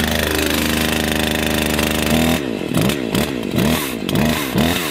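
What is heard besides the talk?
Husqvarna 543 XP chainsaw starting and running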